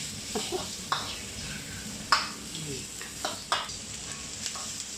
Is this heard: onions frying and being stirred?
yes